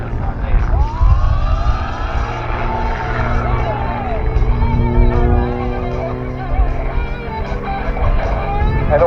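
A Rebel 300 aerobatic aircraft performs a display at the Tocumwal airshow, its propeller engine droning and sweeping in pitch continuously through maneuvers, while a commentator talks over the public address.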